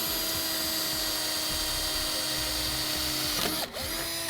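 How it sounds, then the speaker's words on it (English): Power drill boring a pilot hole into a trailer's steel channel, a high steady whine that stays level, then dips briefly and picks back up near the end, heard alone and fairly faint. "And we'll drill into the channel."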